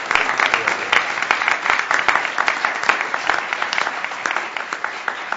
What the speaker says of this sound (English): I'm going to ask for some applause for the panel.